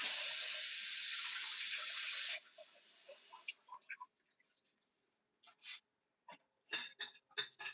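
Baby spinach leaves rinsed under a running kitchen tap: a steady broadband rush of faucet water for about two seconds, then softer trickling and scattered drips and splashes as the leaves are handled, no talking.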